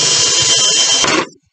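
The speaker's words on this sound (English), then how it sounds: "So I'm just going to drill out holes." A power drill whines steadily while boring holes in a plastic plant container for growing broccoli, loud and close for over a second before cutting off abruptly.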